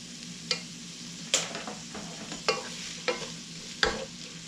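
A vegetable mixture with beets and salt is stirred in a frying pan, with a soft background sizzle broken by about six sharp scraping strokes at a steady, unhurried pace.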